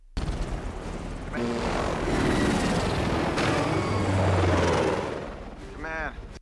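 Attacking military helicopters in a movie battle scene, with a loud, continuous rotor roar that swells and fades, mixed with rumbling explosions.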